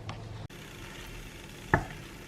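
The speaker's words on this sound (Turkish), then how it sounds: "Onları burada karıştıracağım. Sonra makarnayı ekleyeceğim." Spinach pesto sauce is stirred in a pan before pasta is added, giving a faint background sizzle with a short scrape and a single spoon knock against the pan.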